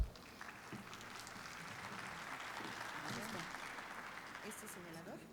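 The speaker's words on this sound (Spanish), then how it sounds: "para quienes pido un fuerte aplauso" Faint, distant applause from a seated audience greeting a speaker at a nutrition and medical science lecture, a steady even patter of clapping lasting the whole stretch at low volume.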